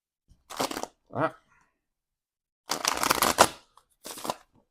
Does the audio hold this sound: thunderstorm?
no